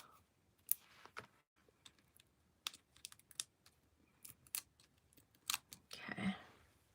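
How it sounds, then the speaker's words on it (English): Small mini scissors trim the edges of paper at close range, making a quiet run of crisp snips and clicks at an uneven pace, with a longer rustle of paper at the end. "I'm gonna trim the edges here."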